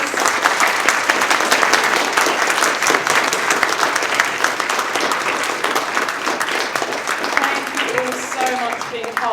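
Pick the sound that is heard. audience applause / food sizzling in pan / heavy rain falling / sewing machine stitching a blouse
audience applause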